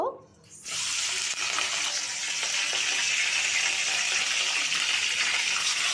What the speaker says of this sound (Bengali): চিংড়ি মাছটাকে ভেজে দিচ্ছি।